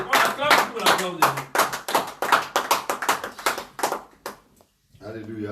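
A church congregation claps and cheers for the glory of God, a dense burst of hands striking in quick irregular pulses for about four seconds, then dropping away as a voice comes back.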